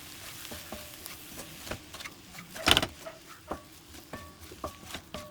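A spoon stirs ingredients in a pan while cooking a Tamil protein-rich recipe, with soft scraping and light clinks in a quiet, close, irregular rhythm.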